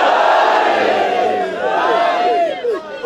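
A large crowd at a religious gathering chants slogans in unison, loud and sustained voices swelling together throughout, with a few rising shouted calls near the end.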